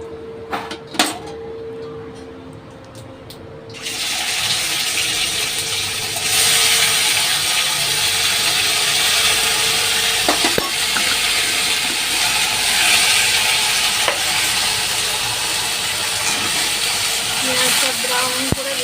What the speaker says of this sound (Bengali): পেঁয়াজটা ব্রাউন করে ভেজে নিতে হবে।